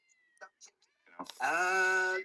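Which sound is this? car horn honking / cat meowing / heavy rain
cat meowing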